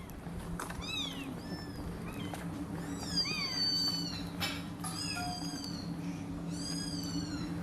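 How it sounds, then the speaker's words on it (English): Several small kittens meow repeatedly, high rising and falling mews overlapping one another over a steady low hum, close and clear with no talk. "Oh, look at the kitty."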